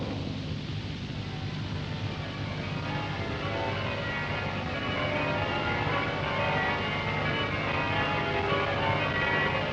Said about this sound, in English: The Christmas bell.